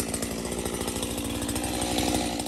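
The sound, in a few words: chainsaw cutting wood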